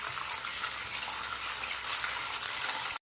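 Boiled peanuts sizzle in hot oil in a pan, a steady, bright frying hiss that holds even throughout and then cuts off abruptly.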